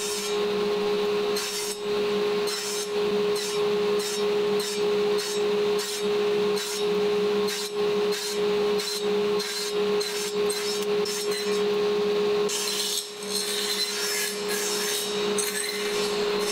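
A saw blade cuts a dado in wood during a router table build, making repeated rasping strokes in a steady back-and-forth rhythm over a constant machine hum, close and fairly loud, with no speech.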